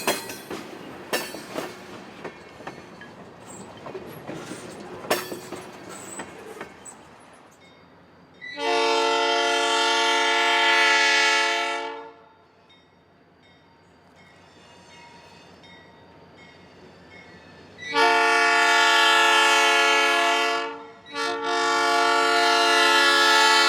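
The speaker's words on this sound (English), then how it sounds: "The train continued east through some eucalyptus trees." An F7 diesel locomotive built in 1949 hauls a freight train past eucalyptus trees, with clattering wheel noise at first, then two long, loud horn blasts separated by a quieter stretch of rumbling.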